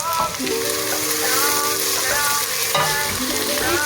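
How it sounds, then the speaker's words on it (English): Onions sizzling and crackling in hot oil, a steady, loud frying hiss with occasional pops and a bit of stirring, no talking. "When you hear that sizzling sound, you know your oil is hot."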